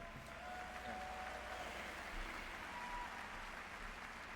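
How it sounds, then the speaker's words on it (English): Steady applause from the Game Awards 2024 ceremony audience, a continuous wash of clapping at moderate level with no voices over it. "So please, a round of applause for our amazing devs."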